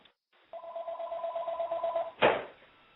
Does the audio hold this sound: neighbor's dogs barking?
no